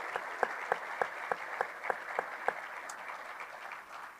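An audience at Abilene's 2025 State of the City address applauds city employees, with sharp individual claps landing in a steady, almost rhythmic beat over a softer wash of clapping that thins out toward the end.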